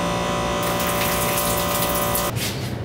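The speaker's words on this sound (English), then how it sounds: "A quick test of the coolant pump shows that everything's working perfectly." Coolant pump on a Tormach 1100MX CNC mill runs with a steady, loud liquid whir and gush, holding constant before dropping to a softer rush near the end.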